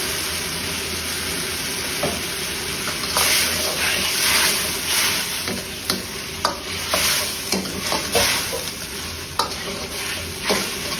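Fried chicken tossed into Manchurian sauce in a hot pan sizzles loudly and steadily, with repeated clacks and scrapes of a spatula stirring close by, no talking.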